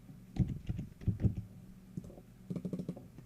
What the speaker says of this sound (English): sorry guys if you can hear my mouse and my keyboard a bit more